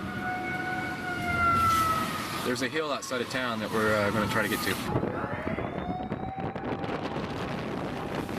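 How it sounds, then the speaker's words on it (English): Tsunami warning sirens wail across a Japanese coastal town, rising and falling tones carrying from a distance through wind noise, while a person talks over them. "You hear the sirens?"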